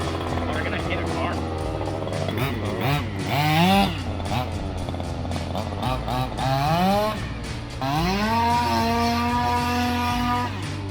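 A gas-powered Baja 5b RC car engine with an upgraded exhaust can buzzes close by, rising and falling in repeated high-pitched revs among a group of drifters, with people talking over it.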